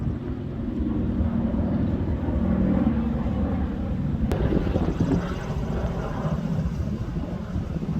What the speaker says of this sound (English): there's a plane flying above us